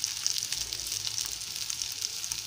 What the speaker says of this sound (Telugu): ఇంకా చేప ముక్కలు వేగిపోయినాయండి.